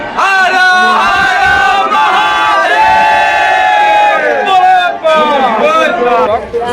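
A large crowd of pilgrims at Kapileshwar temple in Madhubani fills the air with loud, continuous group chanting and shouting, many voices overlapping in sustained calls that rise and fall close by.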